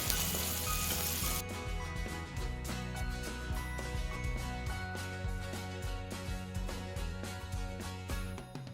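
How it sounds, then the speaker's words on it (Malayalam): Steady sizzling of onions and chillies frying in a hot pan, with occasional light scraping of stirring, close and continuous without talk. "ഓൾറെഡി നമ്മൾ വറുത്തതാണ് ഉള്ളിയും മുളകും, പക്ഷേ നമ്മളിതൊന്നുകൂടി വറുത്ത്"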